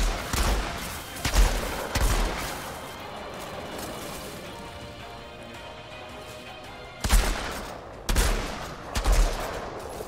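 Sniper rifle shots ring out in the shooter video game Outriders, a few sharp, loud cracks that come in separate bursts early and late, with quieter ambient game sound between them.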